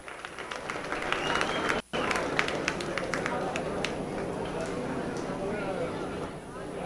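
A county fair crowd applauds a winning blue roan beef steer in the show ring, a steady dense clatter of clapping with a brief dropout, continuing evenly at moderate level.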